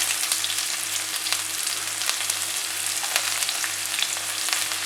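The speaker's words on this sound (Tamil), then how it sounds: "இப்போ வெங்காயம் சேர்த்துக்கிறேன்." Onion frying in hot oil with mustard seeds, urad dal and chana dal, making a steady close sizzle throughout with occasional faint stirring, no talk.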